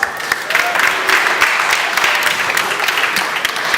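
Applause from an audience at a 2022 innovation opening ceremony in Lausanne, a dense steady patter of many hands clapping for several seconds without talk.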